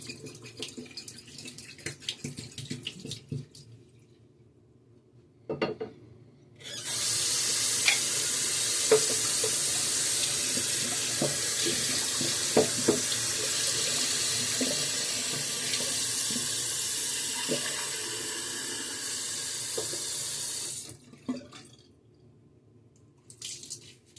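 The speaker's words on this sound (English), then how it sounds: "Just rinsing out my brush." Tap water runs steadily for about fifteen seconds while a shaving brush is rinsed under it, a close, hissing splash that starts and stops abruptly, framed by faint handling clicks before and after.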